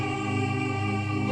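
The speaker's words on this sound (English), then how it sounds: "Then I added Omnisphere, and we're using the Choir Full Oz preset" Omnisphere's Choir Full Oz preset, a dense, full choral synth texture held steadily and loud throughout, with rich low and mid layers, playing alone with no talking.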